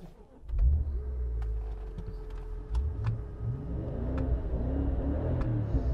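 Deep V8 rumble from a BMW X5 4.8i (E70) revving up and holding steady, loud and close, with a few sharp clicks over the engine and no talking.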